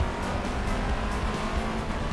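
A Bugatti Chiron in the mobile racing game Racing Master roars continuously through a U-turn drift, engine noise dense and loud with a rough, gritty tire-scrub texture throughout.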